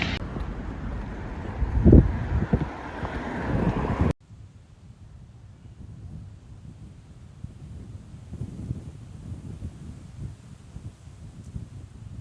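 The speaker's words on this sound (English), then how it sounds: "It is so windy." Gusty wind buffets the microphone with loud low rumbling, then drops to a softer steady blustering after a few seconds.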